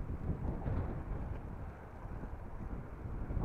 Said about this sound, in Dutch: Nou, een beetje wind tegen.